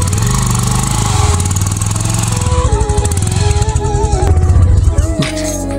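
Motorcycle engine running on a road, a steady rumbling drone that rises and falls in pitch as the bike accelerates, close and continuous with faint wind noise throughout.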